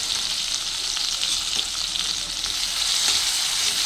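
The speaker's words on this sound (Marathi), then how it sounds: "आणि हे कांदा टोमॅटोचे तुकडे त्यात फ्राय करून घ्यायला" Onion and tomato pieces fry in hot oil tempered with mustard seeds, cumin, asafoetida and turmeric, giving a loud, continuous, close sizzle with no pauses.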